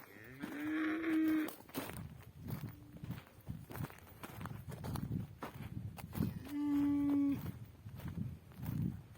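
Cattle mooing in a farmyard beside a broken-down shed, two long low moos several seconds apart, close and clear, with shuffling footsteps and rustling between them.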